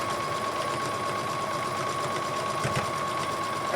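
A sewing machine runs a straight stitch along the folded back edge of a pioneer dress apron, a steady, fast mechanical whir with a constant hum, close and continuous throughout, without talk.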